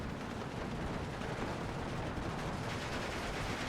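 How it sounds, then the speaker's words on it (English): Anti-aircraft fire in Steel Division 2 as a Ju 87 D5 dive bomber flies into it: a steady, dense roar of distant rapid gunfire and rumbling bursts that runs unbroken from start to finish, fairly faint. "Monty's coming in with a J-87 D5 directly into what appears to be anti-aircraft fire"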